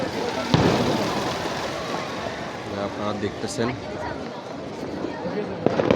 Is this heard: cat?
no